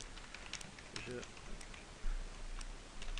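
Someone typing a greeting on a computer keyboard, scattered light key clicks in an uneven rhythm over a faint room hiss, with a voice talking over the typing.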